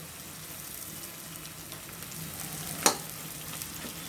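Samosa stuffing of spiced potato with fresh green coriander fries in a pan, a steady close sizzle with one sharp stirring scrape partway through.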